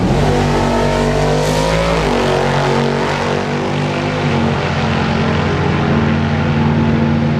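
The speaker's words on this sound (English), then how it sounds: "The Dart runs down through there with a 692, 100 miles an hour." A Dart drag race car at the No Name Nationals runs down the track, its engine roaring loud and steady with a pitch that shifts and then fades slightly as it goes.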